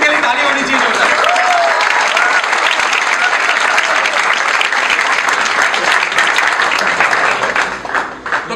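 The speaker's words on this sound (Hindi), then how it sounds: "अरविंद के लिए ताली होनी चाहिए होता है।" Sustained applause from a large audience fills the room, steady and loud throughout before thinning slightly at the end, with faint voices mixed into the crowd noise.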